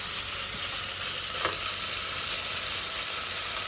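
Vegetables and tomatoes hit a hot pan at a campsite cookout in Austria, giving a steady, dense sizzle and hiss of frying with faint stirring clicks, continuous and close, no talking.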